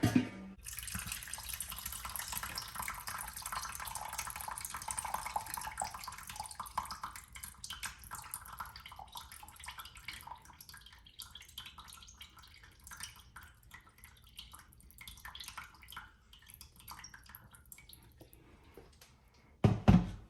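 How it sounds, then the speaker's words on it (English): Liquid draining from a roasting pan of roast lamb leg, a steady pouring splash that runs for most of the stretch, slowly thinning out, then a couple of knocks at the end. "Alright, so I'm just gonna go ahead and drain."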